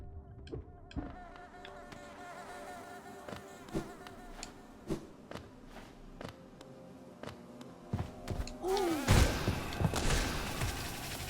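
Insects buzz inside the hive in the Hollow Knight video game, a droning hum over scattered thumps and clicks. The sound swells into a louder, denser burst near the end.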